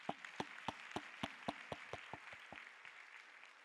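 Congregation in a church service clapping, a series of distinct, evenly spaced claps that soften and fade out, heard faintly from a distance.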